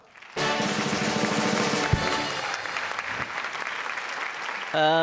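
Loud, sustained applause from a comedy show audience, a dense steady clapping that swells in and carries on for several seconds, with a sharp thump partway through and brief music at the very end.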